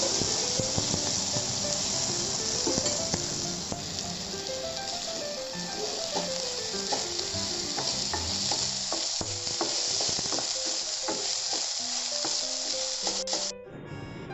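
Washed mung dal and rice frying in a pan for pongal, a steady sizzle under repeated scraping stirs of a spoon, close and continuous for the full length, with music playing quietly underneath and no talk.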